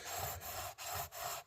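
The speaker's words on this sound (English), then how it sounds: "I got the sanding beam out," Sanding beam rubbed along guitar fret wire to level it, a soft, close scraping rasp in four smooth strokes with brief pauses between passes, quiet and alone.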